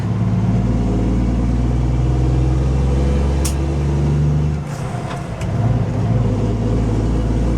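A loaded Kenworth W900 truck's engine pulls hard onto the interstate, a loud steady low roar that dips briefly near the end and then picks back up, heard from inside the cab.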